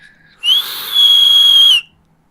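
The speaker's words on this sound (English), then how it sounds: "And the other thing is it does whistle when you do vape." A vape RDA atomizer gives a shrill, high whistle during a draw, loud and close: a short burst followed by a longer, sustained tone of about a second that stops abruptly, with quiet on either side.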